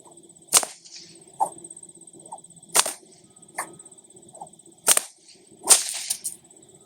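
A whip cracks in the Hungarian pig drover's style, with five or six sharp, loud snaps spaced unevenly over several seconds and softer whooshing swings between them, close and alone.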